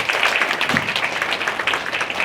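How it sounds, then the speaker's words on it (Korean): Audience applause at a Korean church ceremony in Daegu-Gyeongbuk, a steady dense wash of many hands clapping that holds evenly throughout without talk. "참 어머님께 다시 한번 큰 박수 부탁드리겠습니다"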